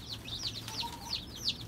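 Amber Star hens and a rooster cluck softly and repeatedly in a short burst of chirpy, overlapping calls, fairly quiet over a low background hum.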